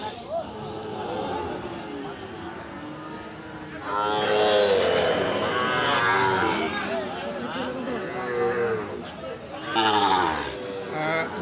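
Sahiwal bull cattle at a busy livestock market, with moos and animal sounds mixed among crowd noise and people talking nearby throughout.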